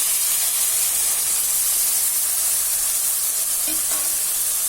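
Peas tossed into hot oil with ginger garlic paste for a kurma hiss in a loud, continuous, steady sizzle close to the pan, with no voices.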